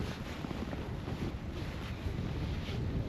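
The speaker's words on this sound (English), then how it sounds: "It is quite gusty out." Gusty wind roars steadily outdoors during a blizzard, a broad continuous rush buffeting the microphone throughout with no voices.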